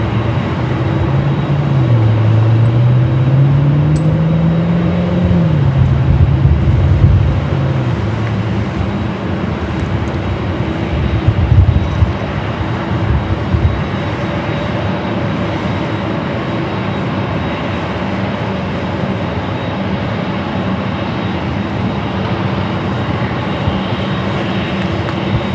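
A heavy airliner on its takeoff roll at Los Angeles airport builds into a loud, sustained engine roar with a rising and falling whine early on, then a steady broadband rumble that continues at close range.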